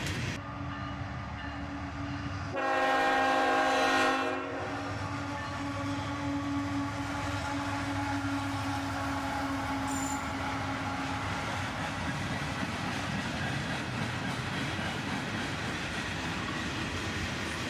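An SD70MAC locomotive leads a freight train past, giving one horn blast of about a second and a half before a long steady rumble of rolling cars.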